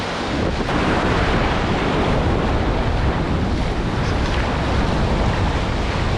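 Loud, steady roar of ocean surf crashing on rocks close by at a beach in Negril, Jamaica, with heavy wind buffeting the microphone throughout; no voices.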